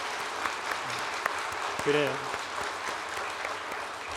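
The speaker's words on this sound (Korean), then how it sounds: "우리 박수로 격려 한번 합시다." A church congregation applauds steadily during a Sunday afternoon service, with dense, even clapping throughout, while the pastor speaks briefly in Korean in the middle.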